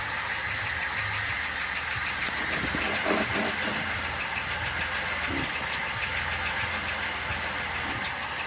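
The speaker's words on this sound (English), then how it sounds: "You hear that rubbing?" A continuous loud engine roar with a rhythmic scraping, rubbing grind of a car wheel underneath, steady throughout with no voices.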